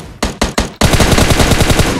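PUBG Mobile gunfire: three sharp separate shots, then a loud unbroken automatic burst of rapid close reports that keeps going to the end.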